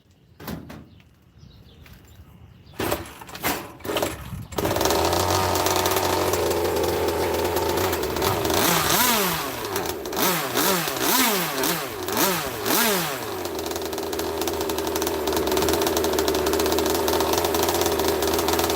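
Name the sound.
Zenoah 26cc engine revving with the throttle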